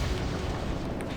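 A dragon gun fires in a video game, a loud, close, roaring burst of flame that blasts out and holds briefly with a rumbling low end.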